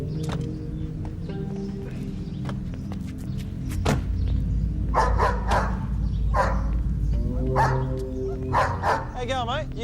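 A dog named Roller barks repeatedly in sharp bursts at close range, with a steady background hum and brief yelps, one ending in a wavering whine.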